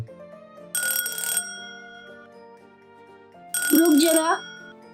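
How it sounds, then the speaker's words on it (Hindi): A telephone rings in two loud electronic bursts separated by a pause, over a background music bed, with a voice briefly heard during the second ring. "देखो तो इस टाइम किसका फोन है?"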